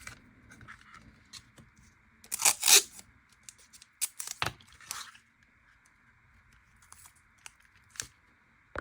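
Painter's tape torn off the roll in a few sharp, crackling rips while masking the sheath of an old Morakniv hunting knife, with quiet handling sounds in between.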